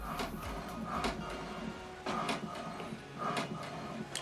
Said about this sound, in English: So what it's doing now is printing the alignment.